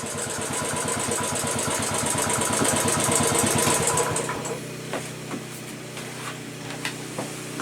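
Royal Enfield Classic 500 single-cylinder motorcycle engine idling with a steady loud chugging thump, then shut off partway through, leaving quiet with a few faint clicks.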